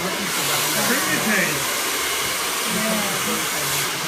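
A hair dryer blowing during a big, bouncy salon blow-dry, a loud steady whooshing drone that continues without pause, with faint talk in the background.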